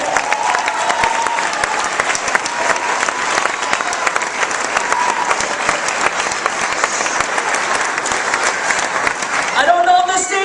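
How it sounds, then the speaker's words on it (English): An audience gives a sustained, loud round of applause for an Irish singer-songwriter from Galway taking the stage at a live concert; dense clapping fills the whole stretch, with a brief shift in tone near the end. "Would you give him a big, huge round of applause?"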